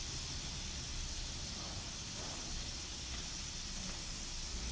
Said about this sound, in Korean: 바삭하게 튀겨진 매작가는 아주 달그락달그락 소리가 납니다.